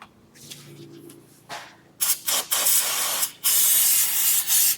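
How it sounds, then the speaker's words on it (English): Brake cleaner hisses out of an aerosol can onto the steering rack of a Toyota Tacoma or 4Runner in loud, close bursts. A few short sprays lead into longer sustained blasts. "probably hose it off with a little brake clean"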